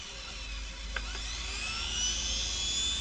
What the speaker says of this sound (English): The motor is going to turn the other way.